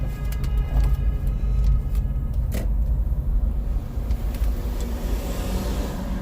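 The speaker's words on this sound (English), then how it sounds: "This is a Toyota Supra. I can't fit in that spot" A Toyota Supra edges into a parking spot. Its engine gives a steady low rumble, close by, with a few faint clicks and small noises over it, and no one speaks.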